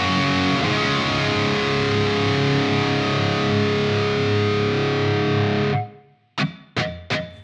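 Heavily distorted electric guitar played through the ML Sound Labs AMPED amp simulator on a warm brown-sound tone, chords ringing loud and sustained alone before cutting off into a few short muted stabs.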